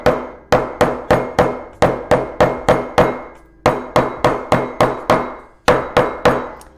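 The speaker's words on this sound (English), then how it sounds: "I want to hammer those little spots" Hammer pounding leather flat at a leathercraft bench: loud, close, sharp blows struck in quick steady runs of about eight to ten, with brief pauses between bursts and no talking.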